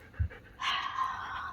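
A dog pants steadily during a training session with toys, with a brief low thump at the start and continuous breathy panting carrying through to the end at close range.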